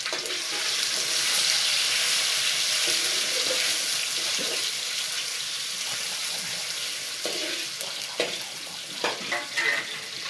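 Onion for manchurian frying in a pan, giving a steady broad sizzle and crackle that fills the whole stretch, with a few louder stirring scrapes and splashes near the end.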